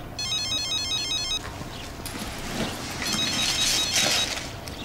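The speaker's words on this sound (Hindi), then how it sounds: "तहनीत का फोन आया है।" A telephone rings in a rapid electronic trill, a burst of ringing followed by a pause and another ring, fairly loud and close.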